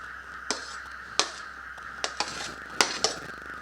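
A kitchen bowl handled while grated potato goes in, with about seven sharp clinks and taps at uneven intervals over a steady low hum, close by and with no voices.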